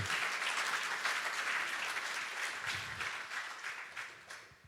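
Congregation applauding during a French-language church sermon on the seven churches of Revelation: a dense, steady wash of many hands clapping, fairly close, sustained throughout and tapering slightly near the end.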